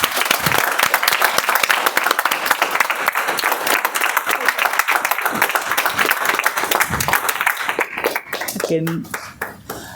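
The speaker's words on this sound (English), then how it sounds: "So with a huge round of applause, let's all felicitate our keynote speaker, Toastmaster Muskan." Audience applause at a Toastmasters club meeting, sustained crisp clapping from a roomful of people lasting nearly ten seconds before thinning out, with a voice speaking over it near the end.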